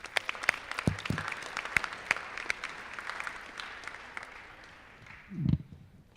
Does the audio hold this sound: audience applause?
yes